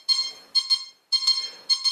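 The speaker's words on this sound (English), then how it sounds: "That's the confirmation tone" An H-King electronic speed controller gives its confirmation tone during brake setup, a run of short sharp electronic beeps in quick pairs and clusters, loud and close, with nothing else heard.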